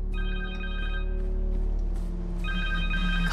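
A cell phone rings in the Spider-Man 2 video game on PS5, with a repeating electronic ringtone over a constant low game backdrop, the ring pausing midway before resuming.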